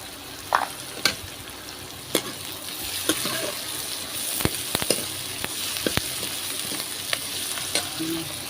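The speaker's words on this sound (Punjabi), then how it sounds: "ਆ ਦੇਖੋ ਮਸਾਲਾ ਭੁੱਜ ਰਿਹਾ" Masala with cumin and browned onions fries in oil in a pan on a clay chulha, for a potato and capsicum sabzi: a steady close sizzle, with sharp knocks from a stirring spoon landing about once a second and no talk.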